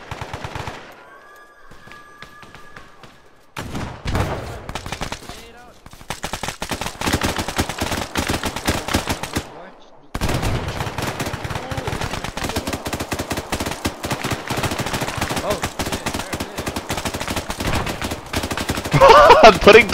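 Rapid automatic gunfire from the military shooter Arma 3, dense bursts of shots that are loud and close, running almost continuously through the clip after a brief quieter opening with tonal game sounds.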